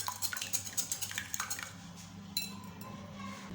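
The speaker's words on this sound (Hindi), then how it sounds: "अंडों को अच्छे से बीट करेंगे।" Two eggs are beaten in a bowl for an atta tea cake, a rapid, rhythmic clatter of utensil against the bowl that is close and moderately loud, then easing into softer, steadier whisking.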